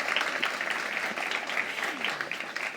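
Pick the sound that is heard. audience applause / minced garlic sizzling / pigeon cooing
audience applause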